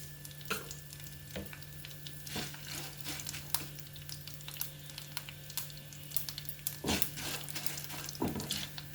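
Mustard seeds and dried red chillies crackling in hot oil for a mango semiya pulihora tempering, a faint steady sizzle dotted with scattered sharp pops and a few louder clicks, no voices.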